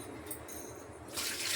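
Water is poured into a cooking pot, a soft steady trickle that turns into a brighter, louder rushing splash near the end, with no talking.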